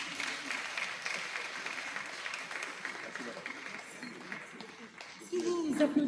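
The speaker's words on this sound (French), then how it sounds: "Sous vos applaudissements, s'il vous plaît" Audience at the opening ceremony of an African and Afro-descendant roots festival applauds, a moderate, continuous patter of many hands, softening midway, before a voice starts speaking near the end.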